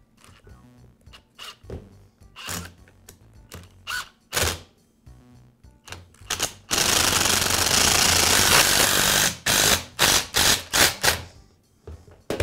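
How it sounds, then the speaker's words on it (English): Screws are driven in with a power tool while a Milwaukee reciprocating saw is reassembled after a field replacement: short, loud bursts of motor whir, then one sustained run, followed by more brief bursts, all close and without talk. "Once it's in place, I'll secure it with the screws."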